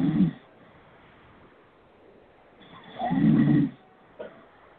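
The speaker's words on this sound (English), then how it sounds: "Is this asshole snoring?" Loud snoring from a man asleep at a radio show microphone: a short snore at the start, a long quiet stretch of breathing, then a big rumbling snore and a brief snort.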